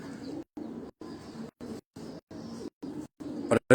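Pigeons cooing in short repeated bursts, about eight low throaty phrases separated by brief silences, fairly close, with a sharper burst at the end.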